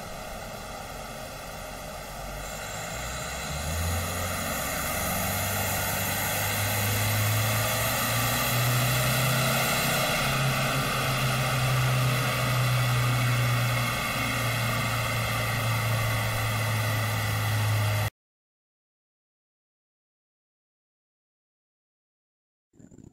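Isuzu D-Max 1.9 diesel engine running on a dyno, a loud steady drone rising in pitch as revs climb for about eighteen seconds, then cutting off abruptly into silence.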